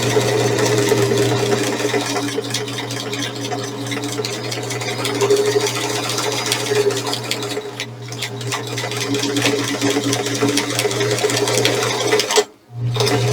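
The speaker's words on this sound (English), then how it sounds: "drop my needle, drop my presser foot, and just sew going across." A sewing machine stitches steadily across a vaccination card holder with a D-ring, a fast, even mechanical chatter up close that runs continuously and then cuts off for a moment near the end.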